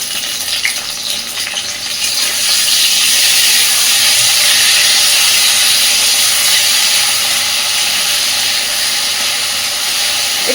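Onion paste goes into hot oil with potatoes already fried reddish, raising a loud, steady broadband sizzle that swells after the first couple of seconds and hisses on evenly throughout, with no talk.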